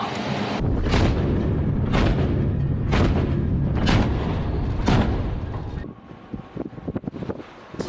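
The main gun of the Chinese warship Yangzhou fires live rounds at sea: six loud, evenly spaced booms about a second apart over steady wind noise, then quieter rumbling and clatter.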